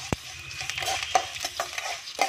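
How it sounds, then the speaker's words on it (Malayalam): Coconut slices frying lightly in a pan for a jackfruit stir fry, a soft sizzle broken by scraping stirs and metal clinks from a spoon against the pan, close by and with no talk. "അപ്പം ഈ തേങ്ങാപ്പൂള് അത്ര അങ്ങ് ഫ്രൈ ആവണ്ട കേട്ടോ, ചെറിയ ഒരു ഫ്രൈ ആയാൽ മതി"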